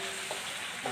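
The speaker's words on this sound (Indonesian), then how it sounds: "Bawangnya sudah mulai" Onions fry in a pan while being stirred for instant-style fried rice, a steady hissing sizzle with faint scraping of the stirring, close and continuous.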